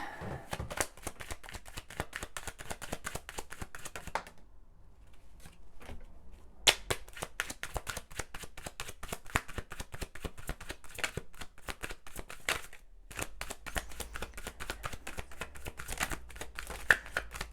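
Rapid crisp riffling and slapping of tarot cards being shuffled, repeated in quick bursts with a brief pause partway through, close and unaccompanied by talk.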